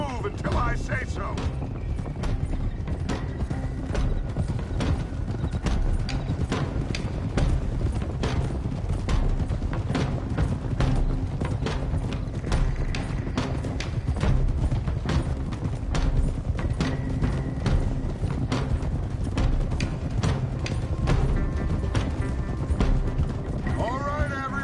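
Horses gallop in Red Dead Redemption as a steady, dense clip-clop of hooves runs throughout, loud and close, with a rider group moving together and voices talking over it.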